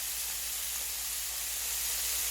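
Diced pancetta or bacon browning in its own fat gives a constant, even sizzle over a faint low hum, close up and free of speech.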